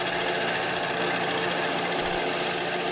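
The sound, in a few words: lathe gouge cutting walnut or tigerwood bowl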